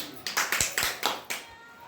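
A short burst of hand clapping, several sharp claps in a quick irregular run, fading out after about a second.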